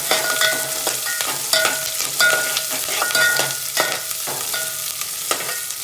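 Onions hiss and crackle loudly in a pan with mustard seeds and curry leaves, close up, while a spatula scrapes and taps against the pan in a quick repeating rhythm.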